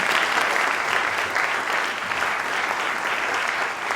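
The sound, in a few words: audience applause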